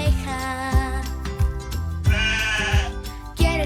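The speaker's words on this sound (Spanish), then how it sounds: "Vamos a escuchar cómo hace la oveja." A sheep bleats again and again, loud and close. The calls come in short, pulsing bursts that sound like a recording used in a children's farm-animal song.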